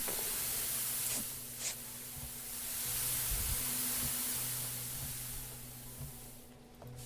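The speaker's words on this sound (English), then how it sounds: "Yep, there's that steam leak." Steady broadband steam hiss from a leaking pipe aboard a derelict ship in Ship Graveyard Simulator 2, continuous and fairly loud, swelling slightly in the middle, with low mechanical hum underneath and faint clanks.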